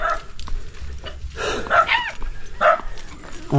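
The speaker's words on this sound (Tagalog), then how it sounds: "Dito ang aso, ganda ng aso nila oh." A dog barks a few times outdoors amid background noise and faint voices, the barks short and moderately loud.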